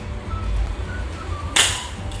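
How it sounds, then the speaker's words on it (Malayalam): A single sharp firecracker bang bursts out partway through during Vishu celebrations, loud and cracking, against a low rumbling background with no voices. "അവിടെ പടക്കം പൊട്ടിക്കുന്നത്"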